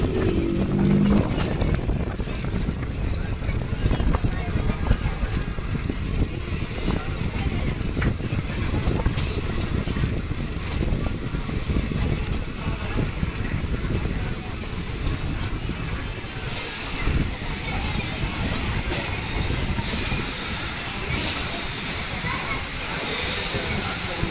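A train rolls into Sanjamala station on the Nandyal–Yerraguntla railway line, a continuous loud rumble of wheels and carriages heard from on board, with rhythmic clatter and a brief shift in tone near the end.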